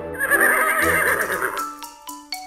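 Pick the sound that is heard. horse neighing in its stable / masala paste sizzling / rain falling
horse neighing in its stable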